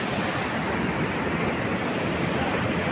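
Arun river water rushing through hume pipes at a bridge construction site, a dense, loud, unbroken roar of flowing water close by with no voices.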